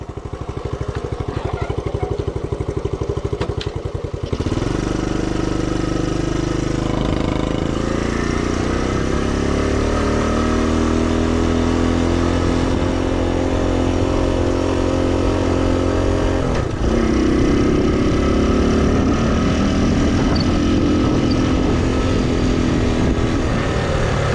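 A 1967 Honda CT-90 Trail 90 motorcycle engine, warmed up after a rescue, runs steadily at close range, a loud continuous putter whose tone settles and shifts slightly with small throttle changes, with no talk.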